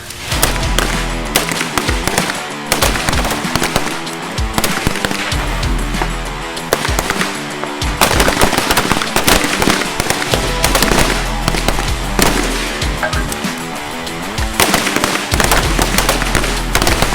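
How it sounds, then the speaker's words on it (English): Patrol rifles fire in rapid, loud, sharp bursts on an outdoor police training range as several shooters fire five rounds standing in the open, the overlapping reports crackling throughout with no talking. "First course of fire is going to be 5 rounds standing in the open in 10 seconds."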